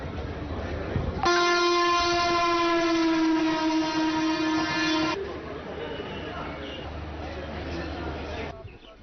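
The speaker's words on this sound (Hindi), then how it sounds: "वंदे भारत ट्रेन दे बनाल रेलवे स्टेशन पर रुकने ते इत्थे एदा पड़ाव बनाने लिए" A Vande Bharat train at Banihal railway station sounds its horn in one long, loud, steady blast of about four seconds, followed by the lower rolling rumble of the train moving through the station.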